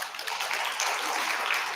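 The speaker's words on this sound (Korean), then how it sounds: "박수도 한번 치시기 바랍니다." A church congregation applauding during a Christmas service, a soft, even rush of many hands clapping together at a distance, fairly quiet and unbroken, with no voices over it.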